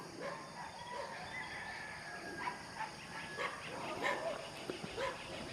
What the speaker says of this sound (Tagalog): Tapos may aso dyan, oh.